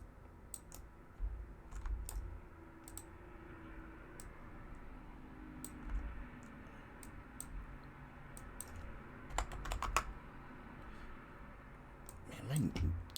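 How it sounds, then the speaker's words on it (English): Fingers tap on a computer keypad in scattered, sharp little clicks and short bursts, mostly faint, with someone talking at times. "Unity does not like me typing with this keypad the first time I start typing stuff"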